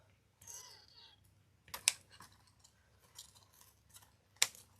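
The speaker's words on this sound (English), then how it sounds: "Another sloppy cut. I don't think these are my good scissors." Scissors snipping through wreath-making material in a few sharp, separate cuts close by, with quiet handling noise between the snips and a faint voice early on.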